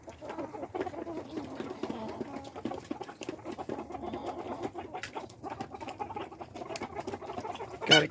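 Backyard chickens with a cold squeak, cluck and sneeze in a coop, a run of small close calls with a sharp louder squeak at the end.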